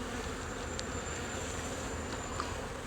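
A honeybee colony in a hive hums in a close, steady drone, with faint individual buzzes passing by and no voices.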